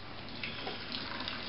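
Water from a kettle runs over basmati rice being rinsed, a steady close hiss of flowing water with no pauses.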